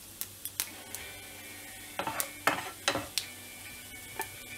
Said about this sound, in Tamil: இப்போ எண்ணெய் காஞ்ச உடனே அதல கடுகு ஆட் பண்ணிடலாம் அதிலே உளுத்தம் பருப்பு சீரகம்